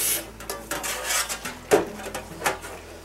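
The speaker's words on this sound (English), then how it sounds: "So we're going to scrub this down" Dawn dish soap and hot water scrubbed over a Helen Chen wok with a bamboo handle, a close, uneven run of rasping rubs and light metallic clatters, with sharper bumps near the middle and end.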